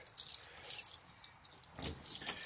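Keys jangle in two brief bursts of light metallic rattling just before going into a door lock at home, fairly close and not very loud, with quiet room noise between.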